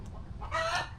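Chickens cluck in a coop, a single short, fairly close burst of clucking calls from farmyard fowl.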